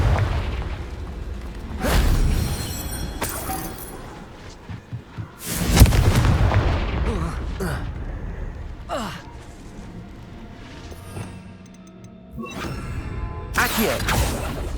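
Confringo blasting spell explosions in the Hogwarts Legacy video game: several heavy booming blasts with rushing, crackling debris in a dense, loud battle mix, with breathy vocal gasps and effort sounds between them.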